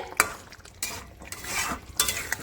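Egg curry with potatoes being stirred in a pot, giving a few scraping, sloshing strokes over a faint simmer, close and moderately loud with no talking.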